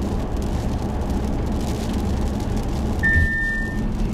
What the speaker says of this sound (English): You heard the warning, bing, you've seen the optic warning, and then suddenly the car was already braking.